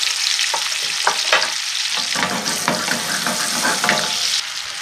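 Banana pieces sizzle in melted butter on a hot hob, a steady bright frying hiss with a few soft scrapes of stirring and turning, close and alone.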